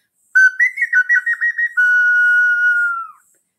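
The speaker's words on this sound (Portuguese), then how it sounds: "Os pequenos apitos, apito de família" A small heirloom whistle is blown close up, giving a bright, clear tone. It starts with a quick burst of chirpy trills, then settles into one long, steady note that fades after about three seconds.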